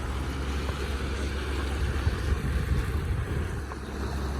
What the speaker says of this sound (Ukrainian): Ну, Поплив катерок. Прогулочний.